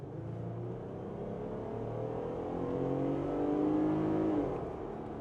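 A 2024 Jeep Gladiator with a large naturally aspirated engine accelerates steadily, the engine note rising and swelling to a loud peak before easing off near the end.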